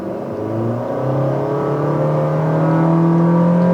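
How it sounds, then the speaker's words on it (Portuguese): A 2022 Honda City Touring sedan pulls away from a standstill in a 0 to 100 km/h run. Its engine note rises steadily and grows louder, with no talk over it. "Vamos ver aqui como é que o City vai se comportar de 0 a 100. Vamos lá. Estolando o carro, saindo."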